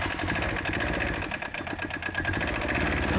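An old tractor engine fitted in a moped car with automatic centrifugal clutch runs close by in a steady, rough mid-pitched idle with a rapid chugging pulse and a brief dip midway.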